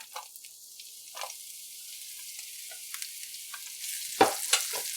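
Onions fry in hot oil in a pan, with a soft, steady sizzle broken by a few scraping stirs and one louder clatter near the end, and no talk.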